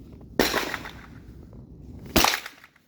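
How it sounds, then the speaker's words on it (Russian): Two sharp, loud shotgun shots about two seconds apart outdoors, each a crisp crack with a short fading tail, quiet between. "Второй выстрел."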